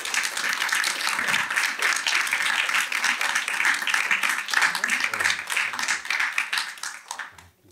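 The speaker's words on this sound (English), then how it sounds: "please give him a warm UHD welcome round of applause" Sustained audience applause welcoming a speaker to the stage at a talks event, dense steady clapping throughout that fades out at the very end.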